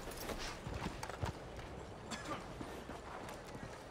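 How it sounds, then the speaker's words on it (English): Horse hooves clip-clop in Red Dead Redemption 2, a quick, uneven run of muffled hoofbeats on a dirt track, close and moderately loud with no talk. "I need better brakes on this horse."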